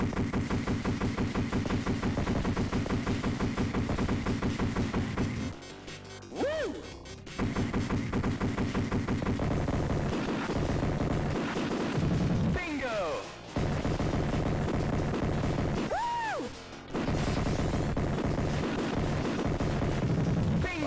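In the arcade game Smash TV, rapid buffalo-gun fire keeps up a steady stream of shots over looping game music, with short sweeping effects breaking in now and then.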